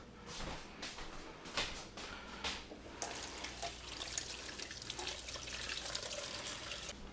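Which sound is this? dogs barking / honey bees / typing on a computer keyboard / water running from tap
water running from tap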